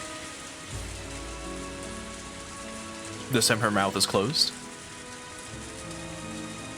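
Steady rain patters across a surface in the Higurashi game world, a soft continuous wash running under a woman's brief spoken line in the middle.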